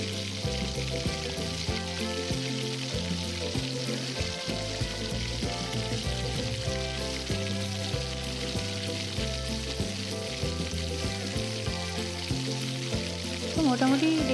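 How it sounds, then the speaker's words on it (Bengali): Marinated chicken frying and being sautéed with raw spices in a kadai, a loud continuous sizzle with occasional stirring scrapes throughout, alone without voices. "এবার ম্যারিনেশন করে রাখা যে মাংসটা, সেটাকে আমি কড়াইয়ের মধ্যে দিয়ে নেব"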